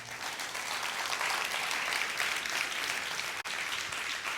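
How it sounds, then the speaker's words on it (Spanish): Congregation applause at a church service, a large crowd producing a dense, even wash of clapping that holds steady throughout, heard from a distance with a brief dropout near the end. "Dale un aplauso bien fuerte al Señor."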